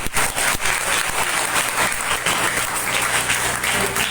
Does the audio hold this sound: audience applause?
yes